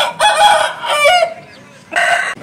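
A game rooster of the spur-legged fighting type crows close by in two strong, drawn-out calls separated by a short pause.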